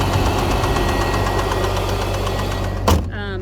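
2002 BMW 325i engine running with a rapid, persistent ticking knock from lifters or a rod, close and steady over the idle drone, with a brief thump near the end.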